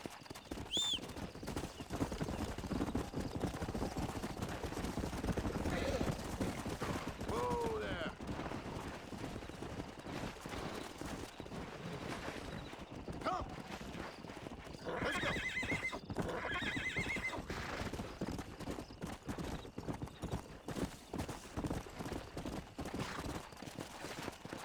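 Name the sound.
horses galloping and neighing, from the video game Red Dead Redemption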